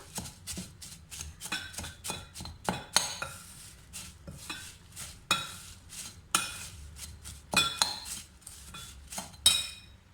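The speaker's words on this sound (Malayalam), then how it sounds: "ഇതെല്ലാം കൂടി ഒന്ന് നന്നായിട്ടൊന്ന് മിക്സ് ചെയ്യാം" A spoon scrapes and clinks against a bowl in irregular bursts, mixing an aval milk (flattened rice and milk) mixture with repeated knocks and taps, fairly close and quiet.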